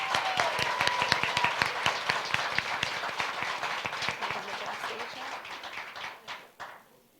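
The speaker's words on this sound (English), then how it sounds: "Let's give them another round of applause." At the West Springfield Colleen Pageant, the audience claps for the contestants representing their Irish heritage. Brisk, crisp applause with some sharp individual claps, fairly near, tapers off and stops near the end, with brief voices faintly audible.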